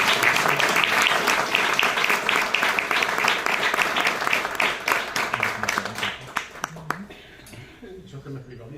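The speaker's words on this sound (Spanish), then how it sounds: "Aplaudimos." A lecture audience in a history class breaks into lively applause that rolls on for several seconds, then thins out to a few scattered claps, with a voice speaking as it fades.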